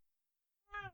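A house cat gives a single short, close meow near the end, after near silence.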